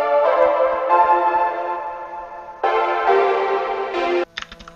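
The original synth intro of a song plays sustained, bright chord blocks that change twice, then break into short stuttering fragments at the end.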